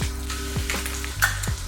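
Pureed ginger and garlic sizzle in hot vegetable oil, a bright crackling fry punctuated by a few low thuds of stirring against the pan, close and moderately quiet.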